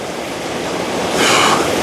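A waterfall roars nearby beside a fallen tree, a steady broadband rushing of falling water that swells slightly louder toward the end, with no voices.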